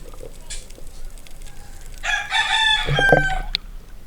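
A rooster crows loudly and close, one long rising crow over a steady murmur of background noise, followed by scattered clucks.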